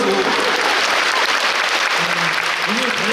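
Concert audience claps in a full, sustained burst of applause, with a few voices and faint musical tones sounding through the crowd noise.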